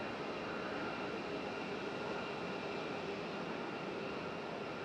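A Delta Airbus A220 airliner at Raleigh-Durham airport, a faint, steady distant engine rumble and hiss with no voices.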